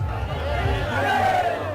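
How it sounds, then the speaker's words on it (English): Crowds at the Bharat Jodo Yatra procession in Maharashtra rise in a brief swell of loud shouting and cheering voices, with a chanting tone carrying through the noise. "Then the crowds."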